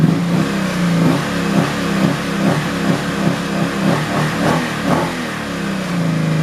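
A Honda Magna motorcycle engine idles and is blipped on the throttle, a steady close rumble with repeated short rises in revs and no voices.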